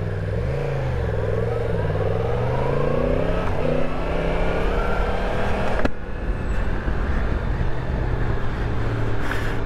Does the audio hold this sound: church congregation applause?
no